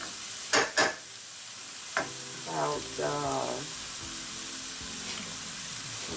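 Cauliflower sautés in butter in a pan, a steady sizzle running beneath a few sharp clinks of a utensil and brief bursts of louder frying, with no one talking.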